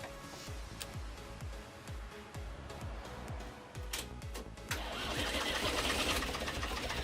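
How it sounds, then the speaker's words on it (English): A car engine cranks with a rapid, even rhythm of starter pulses while boosted by a BlitzWolf BW-JS1 portable 12000mAh 800A jump starter, then catches and roars up into a steady, louder run. "It means we're ready to start the motor."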